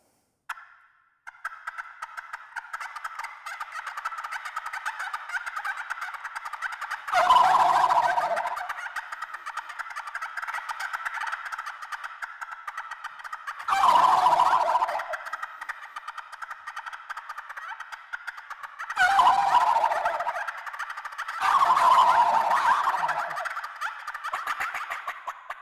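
Turkey calls imitating the fighting purr, with a steady raspy purring and chattering broken by several loud bursts of gobbling; close and continuous.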